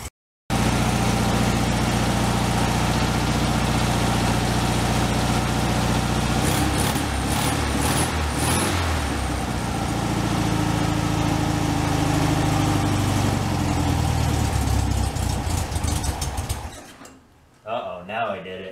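A 1964 Volkswagen Beetle engine idles after a cold start with a steady, low mechanical rumble that holds for most of the stretch, then drops away abruptly near the end.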